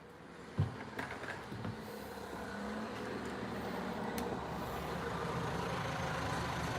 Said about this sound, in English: There's some car that just pulled up here.